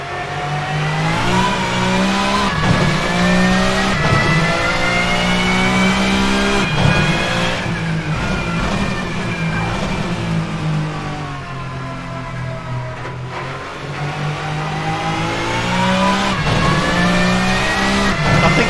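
A VRC touring car in the Assetto Corsa racing game drives hard on track, its engine loud and continuous, revving up and down through gear changes and braking for about nineteen seconds with no talk.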